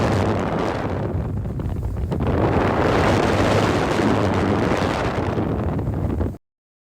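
A boat moving across water with loud, steady wind buffeting the microphone and a low engine rumble, cutting off abruptly at the end.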